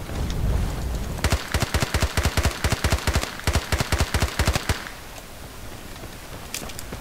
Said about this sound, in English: Now we're gonna move on to long range tap firing.